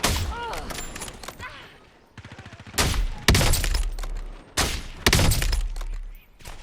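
SMG hipfire in Call of Duty Warzone: rapid bursts of close, loud automatic gunfire with sharp cracks, broken by short pauses and a quieter mechanical rattle, while a voice speaks over part of it.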